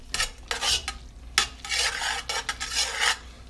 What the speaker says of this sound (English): And I'm gonna stir this around.